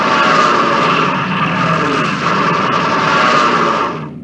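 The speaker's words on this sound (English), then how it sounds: "Let me switch to air mode for my Stuka." A Stuka dive bomber in the WWII strategy game Panzer General II roars past in a loud, steady engine drone that holds for several seconds and then cuts off abruptly.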